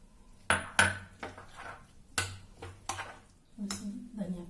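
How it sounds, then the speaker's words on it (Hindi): A spoon scrapes and clinks against a bowl while onion, tomato and coriander are mixed into a sandwich filling, several sharp metallic knocks with rustling between, close by. "धनिया पत्ती भी डाल देती हूँ, डाल करके अच्छे से मिला लेंगे"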